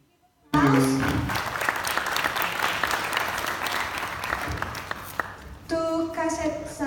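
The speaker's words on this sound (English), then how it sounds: "Please give applause" After a brief quiet start, an audience at an academic conference presentation breaks into clapping that holds for several seconds, then a voice speaks over the dying applause.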